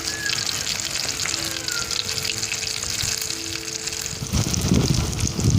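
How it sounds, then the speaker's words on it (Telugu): Fish pieces frying in a pan while cooking outdoors, a strong steady sizzle heard close throughout that grows louder and rougher near the end, with no voices. "చూసారా ఫ్రై ఎంత చక్కగా వస్తుందో"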